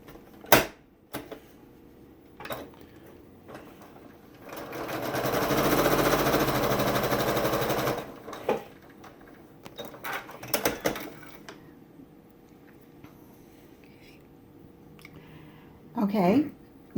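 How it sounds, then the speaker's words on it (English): A sewing machine runs a short burst of stitching along a log cabin quilt block seam, a steady mechanical whir of a few seconds between quieter handling sounds, with a voice speaking around it. "I'm going to turn it, and I'm going to get ready to stitch it."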